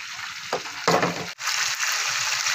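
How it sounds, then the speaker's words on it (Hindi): Chicken for tandoori biryani being turned over while it fries in a pan, a loud continuous sizzle that briefly surges and then drops out for a moment before resuming. "अभी मैं चिकन पलटी कर रही हूँ।"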